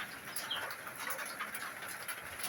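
Budapest racing pigeons coo softly and chatter, a faint, steady murmur of several birds without any talking.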